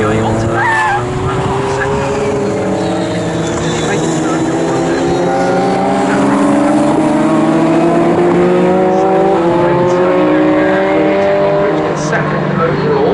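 Classic Ferrari Formula race cars battle around Snetterton's Coram corner, several engines howling loud and overlapping with shifting pitches, while a commentator talks over them.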